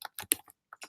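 Brief, quiet typing on a computer keyboard: a handful of soft, irregular key clicks up close, heard alone.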